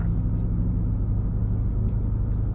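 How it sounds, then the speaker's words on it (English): A car drives along Union Turnpike in Woodhaven, New York, near Forest Park, giving a steady, continuous low road rumble and engine drone that stays even throughout with no voices. "I am just going to be driving around here today. Probably just straight down Union Turnpike."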